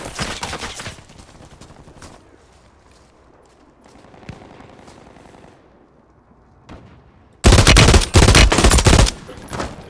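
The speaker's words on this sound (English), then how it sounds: "there's people shooting me from that direction" Gunfire in Call of Duty Warzone on Urzikstan, scattered distant shots giving way to a loud, close burst of rapid automatic fire near the end, with no voices heard.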